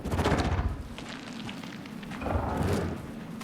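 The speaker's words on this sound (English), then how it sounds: "Anderson, pin him down with gunfire for me to get the light on him" Gunfire in the video game Alan Wake 2 comes as a few heavy, booming shots with a rumbling tail, moderately loud against dark ambience and spaced over a few seconds.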